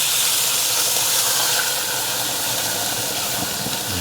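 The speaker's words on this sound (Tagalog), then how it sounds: "tapos lagyan natin ng tubig." Water poured into a hot pan of meat sizzles and hisses steadily, a loud, continuous steamy wash that holds evenly throughout with no voices.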